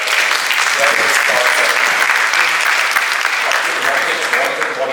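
A business event audience gives loud, full applause for CCAF, a close, dense roar of clapping hands that stays strong and steady throughout, with faint voices mixed in.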